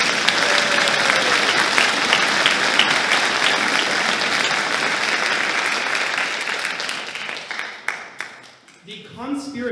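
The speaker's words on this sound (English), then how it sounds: "How about another round of applause for Phoebe?" Audience applause at a high school spring orchestra concert, sustained loud clapping from a full hall that thins and fades near the end as a voice begins speaking.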